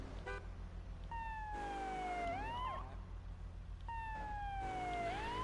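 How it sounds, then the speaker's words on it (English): Police car sirens in a GTA video game wail in two long rising-and-falling sweeps over a steady engine hum, loud and close, with no talking. "I like how when you have like the police sirens"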